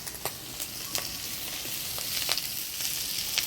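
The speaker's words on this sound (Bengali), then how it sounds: "চিংড়ি মাছটা ভাজা ভাজা হয়ে আসছে" Dried shrimp fry in a pan, crisping up, with a soft, even sizzle broken by small sharp crackles and pops scattered throughout, fairly quiet and close with no voices.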